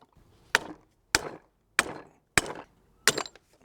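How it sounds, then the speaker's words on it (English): A hammer drives a motorcycle tyre lever against a crown race to seat it on a downhill bike fork: five sharp, evenly spaced metallic strikes, close and loud, with no talking. "I've found myself a hammer and a motorcycle tyre lever, and that's going to fit on this crown race thing."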